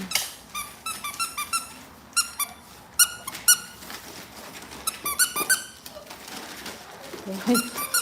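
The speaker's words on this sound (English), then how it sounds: "it takes a little squeaky noise to wake you up" Rubber toy squeaks ring out in short repeated bursts, several quick squeezes in uneven rhythm, close and fairly clear, used to rouse a six-week-old puppy.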